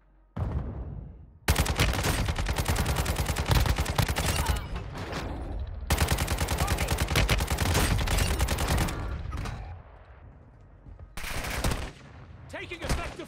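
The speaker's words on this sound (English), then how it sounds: "Taking effective fire." Rapid bursts of automatic gunfire in the mobile shooter game Warzone Mobile, loud sustained volleys with brief gaps between them, and a faint voice at the start.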